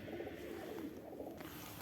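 Pigeons just released outdoors coo softly, a faint, low, murmuring call rising briefly over quiet background noise.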